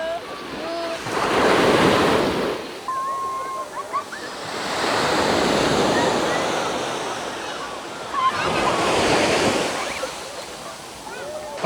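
Ocean waves surge and wash onto Patar white sand beach in Bolinao, Pangasinan, in three broad swells, with wind buffeting the microphone and faint voices in the background.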